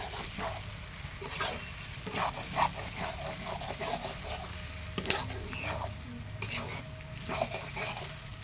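Silver carp fish roe hits a hot pan and sizzles, with frequent stirring scrapes and clinks over a constant frying hiss, close and moderately loud.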